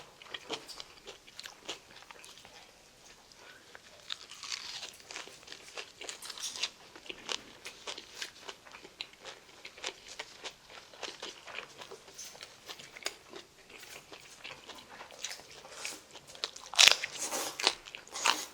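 Crunchy bites of fresh chili pepper eaten alongside spicy fire jokbal (braised pork trotters), quiet close-up crunching and chewing in irregular bursts with no talk.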